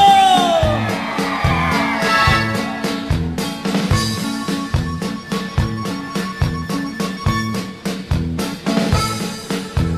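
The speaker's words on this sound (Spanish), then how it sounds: "¡Y que se oiga ese grito" A concert crowd at a norteño music show in Acapulco shouts and cheers loudly over pounding band music with a steady beat, whoops and yells rising throughout.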